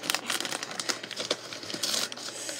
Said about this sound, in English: Got my trusty scissors. And, time to start cutting.